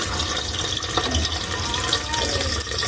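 Water poured steadily into a cooking pot holding fish, a continuous splashing gush running throughout, fairly close, with faint background voices.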